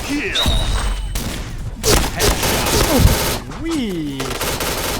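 Rapid gunfire bursts in the shooter game Point Blank, loud and close, with rattling automatic fire and heavy thuds mixed with someone talking excitedly over the shots.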